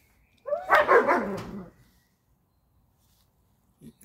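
A dog barks in a short, close burst of several quick barks, then silence, with a faint sound near the end.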